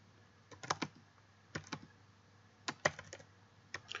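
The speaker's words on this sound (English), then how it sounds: "Okay, I typed in a passphrase, not an extremely secure one, it's not very long, but it'll suffice for this." Keys click on a computer keyboard as a short passphrase is typed in quick, irregular bursts with brief pauses, close and fairly quiet in a still room.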